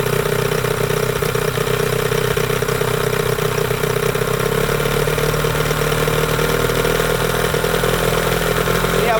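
A 1998 Johnson 15 hp outboard motor idling low, a steady loud mechanical drone with rattling clatter that runs unbroken throughout and is heard up close, with no one talking over it.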